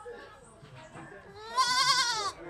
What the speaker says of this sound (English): See the baby goats?